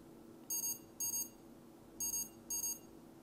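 OOONO NO2 speed camera warner sounding its danger alert, four short bursts of bright, high-pitched electronic beeping in two pairs, each burst a quick double tone, clear and close over quiet background.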